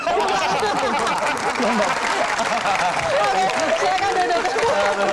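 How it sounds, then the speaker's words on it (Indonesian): Audience applause rolls on steadily, dense clapping mixed with crowd chatter and a few chuckles, voices audible under the claps throughout. "Tepuk tangan."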